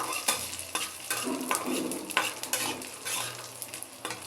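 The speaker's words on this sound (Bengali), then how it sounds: "আর বাদাম বেশি দিয়ে একটু ভাইজা নেব। কিশমিশ দেন, কি হলে সুন্দর দেখা যায় ভাজলে।" Nuts and raisins fry in ghee in a pan with a constant sizzle, broken by repeated sharp scrapes and clinks of a spoon stirring against the metal, close and fairly loud, with no voices.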